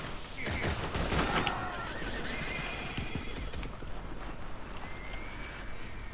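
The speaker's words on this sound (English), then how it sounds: "So there's a horse I can go after and sell." A horse in a video game whinnies loudly near the start over clip-clopping hooves, with a dense, busy game soundscape of rapid bangs and ambient noise continuing throughout.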